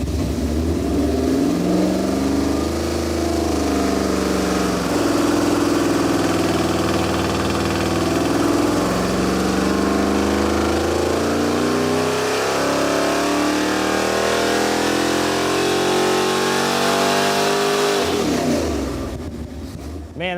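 Chevrolet 409 V8 on a dynamometer with Hooker competition headers (longer primaries, 3-inch collector), roaring loudly and continuously as it revs up under load, then cutting off abruptly at the end.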